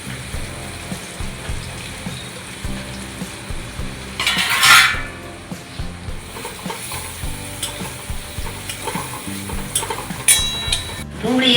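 Chopped onions sizzle and fry in a pan for restaurant-style cashew paneer curry, with steady crackling and repeated scraping stir strokes throughout, a louder burst midway, and no talking.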